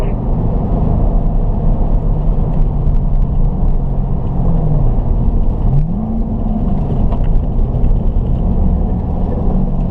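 A car engine drones steadily while driving on a race track, loud and close with a constant rumble and small pitch shifts during gear changes.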